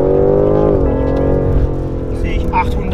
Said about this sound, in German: Also wenn ich jetzt hier Vollgas gebe